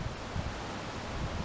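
Steady wind blowing through treetops at Gulpa Creek in Mathoura on a windy afternoon, a broad, even rushing and rustling with small gusts, heard alone with no talking.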